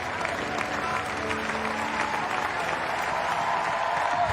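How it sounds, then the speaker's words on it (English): Steady applause from the crowd at a college baseball championship game as a right-handed pitcher leaves, continuous clapping heard at a distance across the ballpark, with crowd murmur beneath. "Round of applause for the right-hander."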